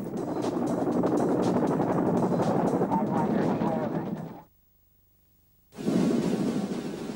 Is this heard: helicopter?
yes